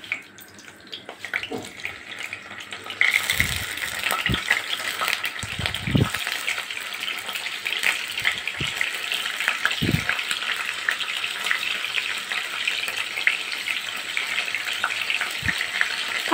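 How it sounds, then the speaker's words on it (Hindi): Paneer pieces drop into a pan of hot oil and a sudden loud sizzle bursts up after a quieter start, then holds steady and close, broken by a few knocks and scrapes of a spatula. "आराम से फ्राई करना है ताकि टूटे नहीं टुकड़े"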